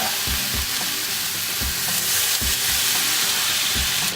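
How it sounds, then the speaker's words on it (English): Thin bacon sizzles in a hot cast iron pan, giving a loud, dense hiss with a few low knocks and bumps from the pan, heard close with no voices. "Cast iron's been going for a while, so let's lay out this bacon"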